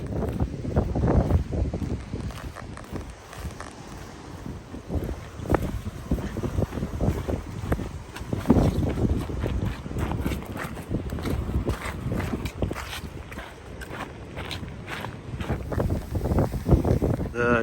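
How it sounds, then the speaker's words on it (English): Gusty wind buffets the microphone on a coastal trail near a creek crossing and lighthouse on California's Lost Coast, rising and falling in strong roaring bursts throughout with no speech. "It's a little windy."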